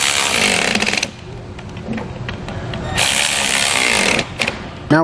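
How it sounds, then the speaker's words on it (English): A 9/16 socket on a ratchet or power driver tightens bolts on air spring brackets during an Air Lift LoadLifter 5000 install on a 2018 Ford, giving loud close mechanical whirring bursts separated by a brief quieter pause. "Now we'll grab our 9/16 socket and just tighten these down."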